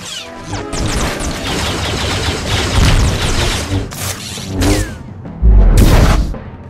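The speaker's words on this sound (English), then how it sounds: "bounty hunters rocketing, with jetpacks, firing missiles down on their opponents" Missiles and heavy gunfire erupt in a Star Wars: The Old Republic battle as jetpack-flying bounty hunters rain down rockets, a dense, loud barrage of blasts and crashes with a big boom near the end.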